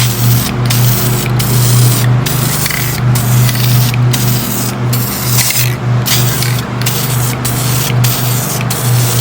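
A second coat of paint is sprayed onto a Corvette in repeated short passes, each a loud close hiss broken by brief pauses, over a steady low hum from equipment, with no talking.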